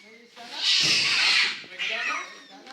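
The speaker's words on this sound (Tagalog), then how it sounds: "Ay, ano nang tatapang ng mga pusa dito?" Cats yowling and squalling in a loud, drawn-out burst, then a second shorter cry, with scuffling noises nearby.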